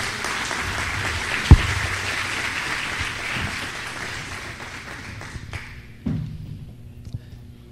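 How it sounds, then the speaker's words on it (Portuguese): An audience at a business talk applauds, a dense, steady wash of clapping from many hands that slowly thins out and fades, with a couple of thumps along the way. "Vamos a darle un aplauso a Marcio que me ayudó"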